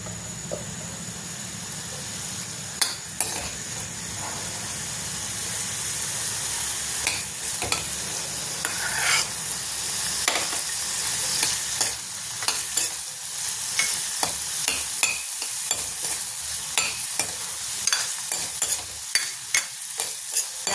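Onions fry on a high gas flame until reddish, giving a continuous close sizzle. Frequent spoon-on-pan scrapes and clicks come in irregular bursts, and no one talks.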